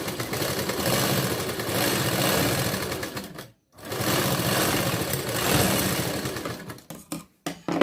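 A sewing machine runs in long, steady bursts while straight-stitching blouse fabric, with a rapid mechanical whir that stops briefly mid-run and then ends in short stop-start pulses.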